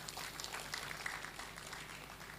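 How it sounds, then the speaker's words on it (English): Faint, distant applause from an audience at a scientific meeting, honoring the King; an even patter of many hands clapping throughout, quiet and diffuse. "Another round of applause for the King"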